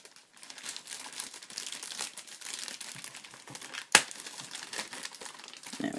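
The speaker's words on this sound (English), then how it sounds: "And open the bag." A plastic bag of toy add-on parts for a Maketoys MT-03 Hypernovae figure being opened close up, a steady crinkling and rustling with one sharp tearing snap midway.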